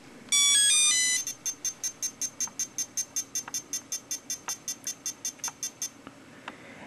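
A Lights Out handheld electronic game plays its startup tune: a brief rapid burst of bright electronic beeps, then a fast, even run of about twenty short tones that fades out, with faint clicks underneath.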